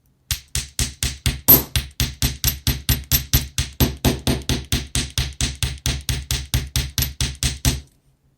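A hammer strikes wire on a metal block in a steady, rapid series of about thirty sharp, ringing blows, close and loud, then stops.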